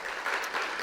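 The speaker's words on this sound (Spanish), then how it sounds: "Primeramente le tengo un aplauso por la Torah," Brief, soft applause from a small gathering at a Torah-related religious talk, a short patter of clapping hands heard from a moderate distance and cut off after under a second.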